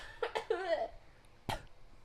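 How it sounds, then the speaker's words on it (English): A person who is sick coughs a few times in quick succession into a nearby microphone, with a short gap and then a final sharp cough. "I need to cough again."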